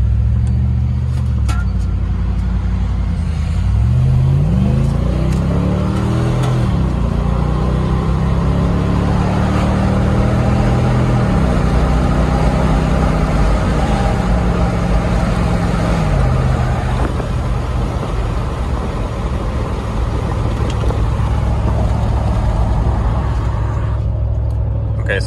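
A fourth-generation Toyota 4Runner V8 with a muffler delete accelerates on the road, heard from inside as a loud, continuous engine drone whose pitch climbs through gear changes and then levels off into a steady cruising roar.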